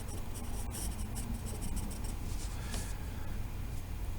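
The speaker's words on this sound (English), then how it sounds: "I'm just letting the pencil skim along the surface to color that a light gray" A pencil skims lightly across paper while shading a drawing to a light gray, producing a steady, soft scratchy rasp with faint rhythmic strokes throughout.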